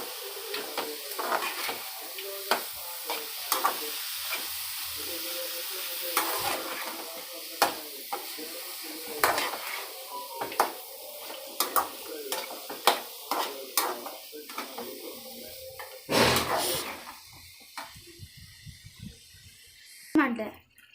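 Carrot halva with dry fruits and cardamom powder is stirred in a pan, giving a soft sizzle with repeated scraping and clinking strokes of a spoon against the metal. A person talks over the stirring.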